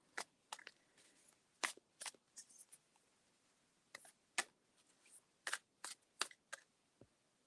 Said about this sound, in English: I am shuffling the Moonology Manifestation deck for Christine.